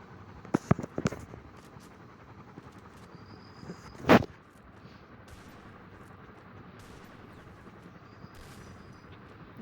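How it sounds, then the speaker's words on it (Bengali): Gunfire in a shooting video game: a few quick, sharp shots early on, then a single louder burst, set against a quiet, steady background hum. "ও আবার ফায়ার দিয়ে লোকেশন জানিয়ে দিচ্ছে"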